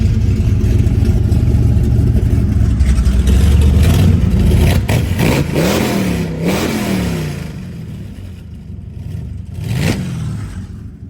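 A 1970 Chevrolet Chevelle with a 502 engine revs hard with electric exhaust cut-offs open, a loud deep roar rising and falling through several throttle blips before dropping toward idle and one last rev.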